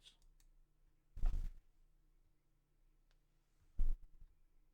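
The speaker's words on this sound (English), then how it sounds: "I'm going to click that and let's see what happens" Two sharp mouse clicks on a meeting's leave button, separated by a pause of a few seconds and close to the microphone in an otherwise quiet room, with no voices.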